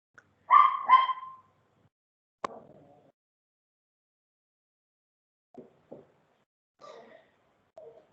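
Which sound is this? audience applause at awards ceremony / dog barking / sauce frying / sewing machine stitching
dog barking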